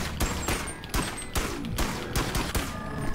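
Rapid bursts of gunfire in the Bonelab VR game, a dense fusillade of sharp repeated shots with loud cracks spread across the whole stretch, no talking.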